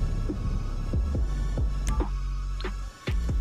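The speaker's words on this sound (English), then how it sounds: "you're going to hear the donk and click at the same time" In GTA 5 Online, a low hollow donk and a click land within a steady droning hum of game audio, repeating as soft thumps with a sharper tick near the end.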